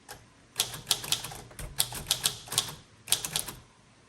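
A 1935 Corona Silent typewriter clacks through quick clusters of keystrokes separated by short pauses, close and crisp with no voices.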